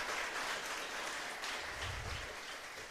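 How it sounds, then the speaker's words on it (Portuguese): Church congregation clapping together during a sermon, a continuous broad crackle of many hands, steady and moderately loud, slowly easing toward the end. "Pode aplaudir, lindo isso."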